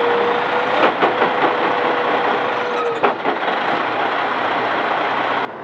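Truck tractor engine running hard against set parking brakes during a tug test, a loud, close, steady diesel roar with a few short surges before it cuts off abruptly near the end.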